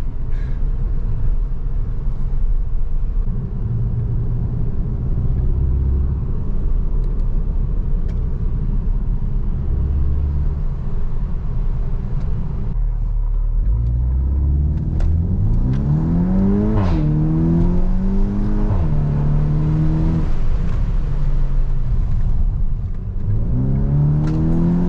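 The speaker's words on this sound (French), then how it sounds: "Qu'est-ce qu'elle est rapide cette boîte, double embrayage." A 2020 Volkswagen T-Roc R with 300 hp and a seven-speed DSG dual-clutch gearbox accelerates hard. The engine note climbs in steady sweeps that break off sharply at each quick upshift. It is close and loud, with a constant road rumble underneath and no talking.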